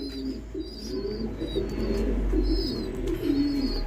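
Low, throaty pigeon coos roll on continuously, several birds overlapping, with faint high chirps and background hum.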